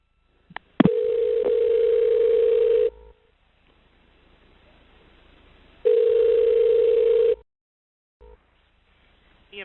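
Telephone tones sound during a 911 call transfer to EMS: a sharp click, then a steady dial tone for two seconds, a quiet gap, a second burst of tone, and brief short dialing blips at the end.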